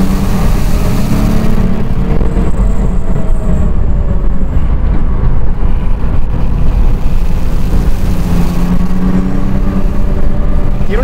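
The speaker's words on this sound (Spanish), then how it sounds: "y vamos a ver cómo sopla el turbo." A turbocharged BMW E36 with a big turbo accelerates at full throttle, a loud continuous engine roar climbing in pitch through the gears with turbo whine, no talking.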